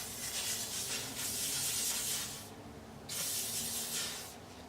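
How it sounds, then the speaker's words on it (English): A can of Lee Stafford hairspray sprays onto a ponytail in two long hissing bursts, close and loud, separated by a short pause. "I'm going to hairspray the hell out of it"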